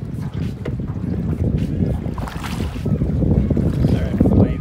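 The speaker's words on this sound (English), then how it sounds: "the waves just rocking everything a bit" Waves rock a boat at Split Rock Dam on a full reservoir, water slapping and sloshing against the hull in a steady low rumble, with wind buffeting the microphone.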